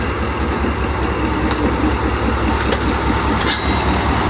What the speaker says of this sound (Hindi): 42 डाउन कराक्रम एक्सप्रेस का शटल फैसलाबाद के लिए रवाना हो रहा है।